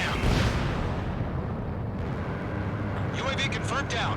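An enemy UAV is shot down in the combat flight game Ace Combat 7 and explodes with a loud, sustained roaring blast. Brief radio-style voices break in near the end.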